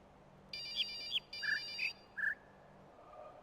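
A mobile phone ringtone chirps out several short rising electronic tones in quick succession, fairly loud over a quiet room, with no one talking and faint background birdsong within the puzzle game The Witness.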